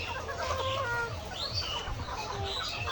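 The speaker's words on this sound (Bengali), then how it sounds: "এই মুরগিটার ডিমের ডাক চলে আসে" A layer hen, about 78 days old and around 1400 grams, gives repeated clucking egg-laying calls amid a dense background of other chickens on a poultry farm.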